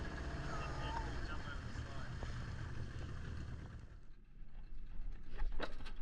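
An outboard motor drives a small boat through rough water off Tahiti, a steady close drone mixed with wind and splashing water, with a voice calling out over it.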